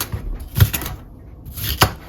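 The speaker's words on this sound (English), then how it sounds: "we're just going to chop this up" Two sharp knife chops land on a board as a sweet pepper is cut up, close up, with a few lighter taps between them and near silence otherwise.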